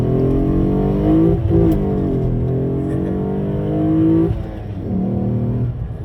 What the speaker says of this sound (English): So revving the car